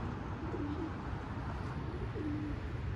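Pigeons coo softly a couple of times over steady outdoor background noise.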